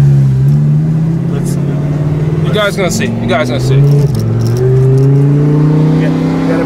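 A twin-turbo Lamborghini tuned to around 800 to 1,000 horsepower, on the street in New York City, with a loud, steady engine drone that rises and falls in pitch as the revs change, heard close up under a voice.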